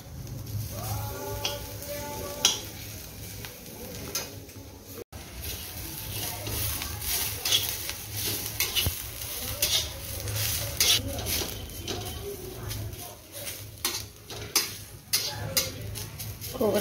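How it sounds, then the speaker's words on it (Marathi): Grated coconut and garlic sautéing in a pan for black pea usal; a moderate sizzle with spatula scrapes and occasional metallic clinks against the pan, close and continuous. "खोबरं पण छान परतून झालंय"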